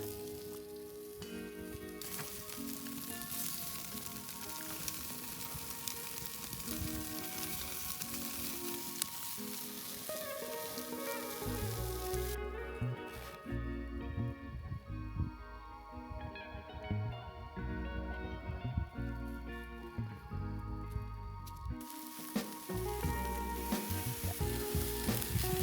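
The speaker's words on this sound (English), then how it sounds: "it's always enjoyable to sit by a fire and just slowly cook some stuff" Food sizzling slowly over an outdoor campfire, with a steady crackling fry beneath a layered tonal backdrop, fairly faint and continuous throughout.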